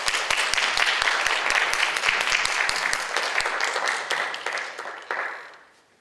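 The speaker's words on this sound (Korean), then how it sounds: "기대하는 마음으로 나오실 때 저희가 박수로 환영하도록 하겠습니다" A church congregation claps to welcome a pastor to the front, a loud, dense round of applause with sharp individual claps that holds steady, then thins and fades out toward the end.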